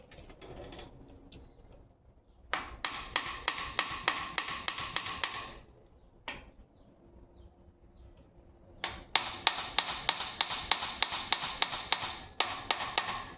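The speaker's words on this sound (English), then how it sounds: "Just a little tap there without hurting anything." A light hammer taps on the pinion seal and yoke of a 1972 Pontiac GTO rear end, two bursts of rapid, evenly spaced metallic taps, close and crisp, separated by quiet pauses.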